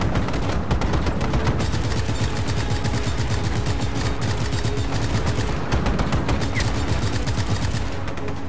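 Enemy gunfire in Just Cause 3, a dense, loud, continuous barrage of rapid automatic shots with dense overlapping bursts that barely pause.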